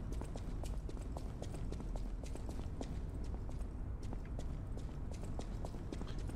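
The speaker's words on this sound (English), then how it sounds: "I hear footsteps." Footsteps from the game Lies of P, inside a castle: a steady stream of hard, clopping steps repeating through the whole stretch over a dense ambient bed, fairly loud and without talk.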